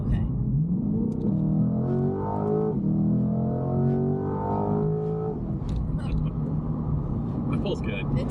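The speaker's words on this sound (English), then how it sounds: "You press gas and it's moving already." A car accelerates in sport mode, its engine note climbing through rising gear pulls with a brief dip at a shift, loud from inside the cabin while people talk over it.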